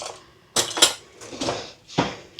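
Metal spoon pulled from a drawer of cutlery in a home kitchen, giving a few sharp clinks and rattles in separate bursts, close and fairly loud, with no talking.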